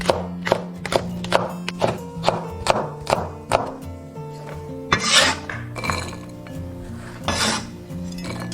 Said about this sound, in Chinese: 准备一些青红椒切圈